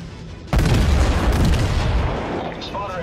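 Battleship main guns from a New Mexico fire in a World of Warships naval battle: one sudden heavy boom that rolls on with a long, dense rumble and fades slowly.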